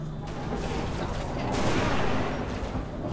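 Sniper gunfire in the video game Halo Reach: dense, continuous game combat noise with sharp cracks and blasts overlapping into a loud, busy wash throughout.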